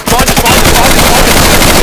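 Loud automatic gunfire from the co-op shooter game Insurgency: a rapid, continuous burst of machine-gun shots filling the whole moment.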